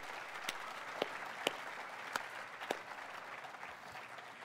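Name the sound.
audience applause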